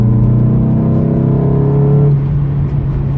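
A Nissan Pulsar N16 1.8 hatchback engine running with no exhaust fitted, a loud, close, raw drone that holds steady revs before easing down slightly toward the end.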